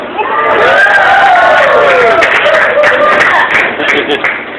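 A lively crowd cheers and shouts, with clapping mixed into the noisy, loud roar of many voices.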